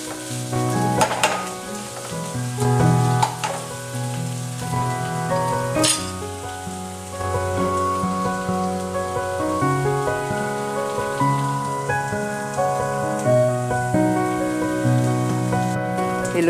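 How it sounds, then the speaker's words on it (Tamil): Crab curry ingredients frying in a pan, a steady close sizzle with scattered stirring scrapes and clinks running throughout. "நல்லா ஃப்ரை பண்ணு."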